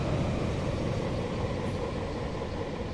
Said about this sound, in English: I can hear another train coming in.